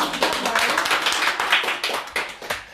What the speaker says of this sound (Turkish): Önce bir alkışlayalım onu